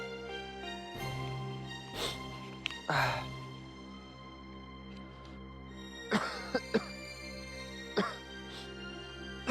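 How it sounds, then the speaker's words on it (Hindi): A sick person coughing several times, sharp separate bursts spread over nine seconds with a throat clear, close and fairly loud over a low steady hum and faint background music. "तबीयत थोड़ी खराब है, बहुत खांसी हो रखी"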